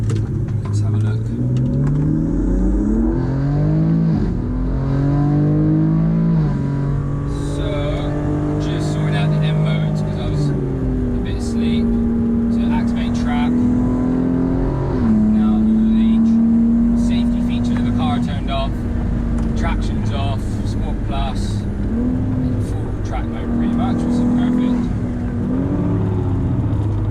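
BMW G80/G82 M3/M4 fitted with a lowering kit, running laps on a circuit; loud, close engine drone rising and falling through gear changes and revs, sustained throughout with intermittent background noise.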